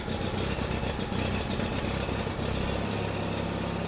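A car engine runs steadily at idle, a continuous close rumble filling the whole stretch with a slight change in tone near the end.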